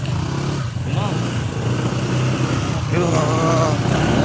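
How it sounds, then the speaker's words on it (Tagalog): Motorcycle engine running steadily while riding, a continuous loud drone with shifting pitch, heard with people talking over it. "Lakas talaga yung motor."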